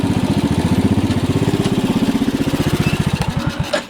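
An old motorcycle engine idling nearby, a loud, steady, rapid chugging pulse that slows and sputters toward the end.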